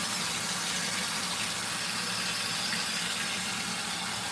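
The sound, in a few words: LG ThinQ washing machine filling with water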